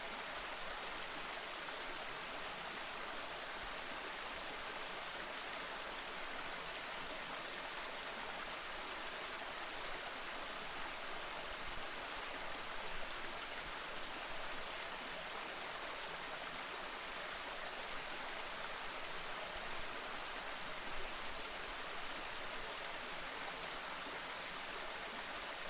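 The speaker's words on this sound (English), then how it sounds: "imagine that you are sitting by a beautiful tropical stream in the rainforest." A tropical stream in a rainforest rushes and gurgles in a steady, dense wash of water noise that holds even and unbroken throughout, with no voices.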